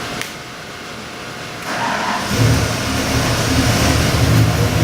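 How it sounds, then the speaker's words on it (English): A 1965 Ford Mustang with a 347 EFI V8 and Phi-Tech fuel injection cranks and fires up at about two seconds, then settles into a loud, steady running idle close by. "Okay, Todd, I got your 1965 Ford Mustang engine here, which happens to be a 347 EFI with the Phi-Tech fuel injection on it"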